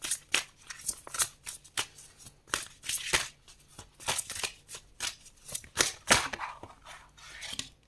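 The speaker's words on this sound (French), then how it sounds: "j'ai toutes mes cartes qui ont sauté en même temps" Tarot cards are shuffled by hand in a quick series of crisp riffling bursts, each snapping close and loud, repeating irregularly over several seconds with no speech.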